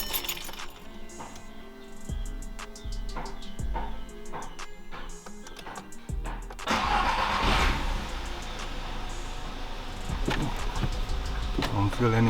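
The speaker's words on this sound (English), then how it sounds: "I'm gonna start the car now and check if the misfire is gone" A repaired Volkswagen Polo Vivo, previously misfiring, cranks and starts, then idles with a loud, steady engine rumble close by, after a few clicks and light handling noises.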